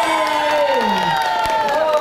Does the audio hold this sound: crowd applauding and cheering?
yes